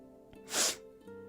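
A single sharp sneeze from a woman on a casual birthday livestream, a short breathy burst that rises and fades within half a second over quiet room tone.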